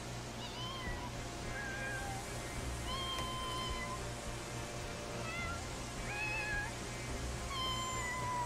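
A video-game cat meows repeatedly in short, rising calls over a constant low ambient hum, fairly quiet and with no talking.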